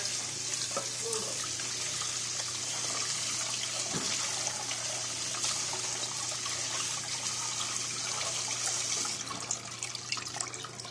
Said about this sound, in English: rinse it in cold water.